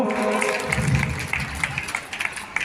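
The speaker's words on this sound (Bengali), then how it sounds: "আমরা একটু হাততালি দিয়ে ওনাদেরকে উৎসাহ দেব" An audience at a district-level Saras festival at the Bishramganj DM office claps to encourage the festival representatives, a steady, scattered ripple of applause that swells briefly and stays moderately close.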